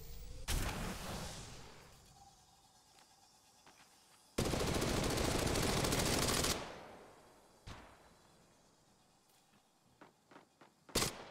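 Bursts of automatic gunfire in the shooter game Apex Legends Mobile, a few long loud volleys separated by quieter stretches, with scattered single shots and clicks near the end.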